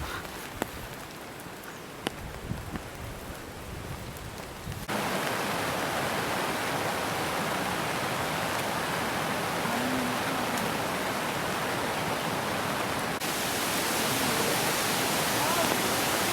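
Water rushes near Irpu Waterfalls in Coorg during rain, a constant broadband roar like a water pump that jumps louder partway through and holds steady, with no talking.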